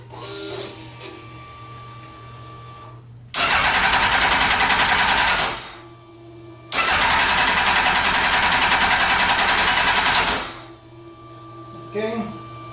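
A Suzuki GSX-S1000 motorcycle being started, two long loud bursts of cranking or running engine separated by quieter idle-like hum and pauses.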